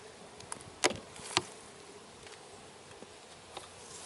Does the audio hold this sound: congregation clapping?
no